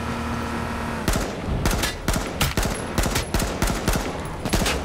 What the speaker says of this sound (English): Somebody shooting at me too.